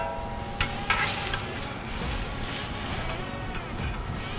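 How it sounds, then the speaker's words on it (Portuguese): Smash burger patties sizzle and fry steadily in clarified butter on a hot griddle, with a couple of sharp scraping clicks as they are flipped, heard alone and up close. "Agora vou dar aquela viradinha."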